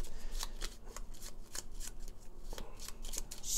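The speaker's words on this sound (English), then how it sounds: "Then we're gonna go ahead and shuffle all of these cards." A deck of cards shuffled for The Taverns of Tiefenthal board game, a rapid flurry of crisp riffling clicks and snaps repeating in quick bursts, close and clear with no speech.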